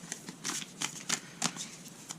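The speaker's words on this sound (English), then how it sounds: "so let's see how they shuffle." Nightmare Before Christmas tarot cards being shuffled by hand, a quick run of crisp riffling bursts at close range with brief pauses between, faint and with no talking.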